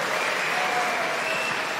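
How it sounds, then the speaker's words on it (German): A studio audience claps loudly and evenly through a rehearsal at the start of a show, with dense, continuous applause and no pauses. "wir brauchen einen schönen Applaus am Anfang der Sendung"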